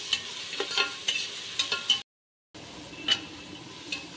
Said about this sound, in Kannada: ನೋಡ್ರಿ ಎಷ್ಟ್ ಚಂದ ಉಳ್ಳಾಗಡ್ಡಿಗ ಫ್ರೈ ಆಗ್ಯಾವ ನೋಡ್ರಿ